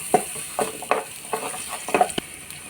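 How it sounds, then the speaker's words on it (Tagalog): Onion and garlic sauté in a hot pan for a Filipino laing dish, a steady sizzle broken by about six scraping stirs in an irregular rhythm, close and fairly loud with no voices. "Ihalo-halo na natin mga master hanggang sa luto yung sibuyas at saka bawang natin."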